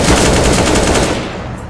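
In Counter-Strike: Global Offensive, a loud, close burst of rapid automatic gunfire blends into one dense rattle that tails off at the end.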